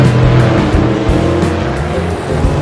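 Vintage Corvette V8 in Assetto Corsa, droning loud and close with a throaty low growl, pitch wavering slightly as revs rise and fall, with a possible tire squeal mixed in.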